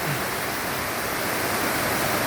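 A waterfall in Kerala near Pala roars in a loud, steady, broadband rush of falling water with no other sounds.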